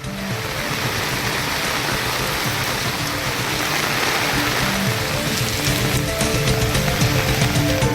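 Heavy rain pours down in Kanchipuram, Tamil Nadu, a dense, steady hissing roar of falling water that fills every moment without a break and with no voices.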